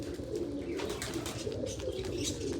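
Pigeons coo steadily and low, their soft throaty calls overlapping in a continuous murmur.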